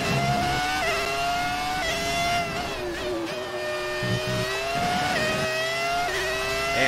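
Schumacher's Formula 1 car in F1 2019 screams at high revs, its engine note rising and dropping through gear changes, loud and close with no talk over it.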